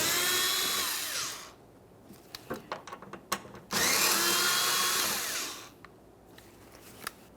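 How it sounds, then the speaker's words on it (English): A cordless power drill spins out two Phillips head mounting screws from a Toyota Sienna front bumper bracket in two loud, whining bursts, with clicks and clinks of handling between them. "we're going to remove 2 Phillips head mounting screws"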